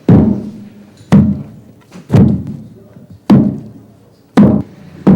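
Roasted coffee beans pounded in a wooden mortar in Jamaica's Blue Mountains: five heavy, evenly spaced thuds roughly a second apart, each a deep close impact with a short rumbling decay, no voices.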